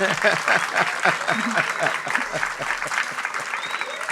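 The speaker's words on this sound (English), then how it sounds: "you can give her a round of applause" An audience gives a warm round of applause welcoming a speaker, steady dense clapping with voices mixed in throughout.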